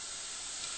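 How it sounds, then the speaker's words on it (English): White wine poured into a hot pan of spinach, a loud steady hiss of steam and sizzle, close and unbroken for under a second. "we can go ahead and put our white wine in now, and it'll make a sound like you'll hear here in a moment"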